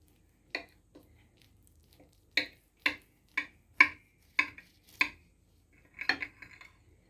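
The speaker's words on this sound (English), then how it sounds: "grab yourself a serrated knife and try to cut it" A serrated knife saws through a vegetable cheesy bread loaf, making a series of about ten short, crisp strokes at an uneven pace, fairly close and otherwise quiet.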